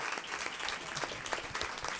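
Audience applause after a talk at a public conversation event, a brief, steady burst of many hands clapping that fills the whole moment at an even level.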